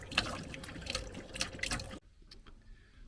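Water draining from a campervan's nearly empty cold freshwater tank, a dense liquid gushing and spattering that cuts off abruptly partway, leaving faint trickles and drips.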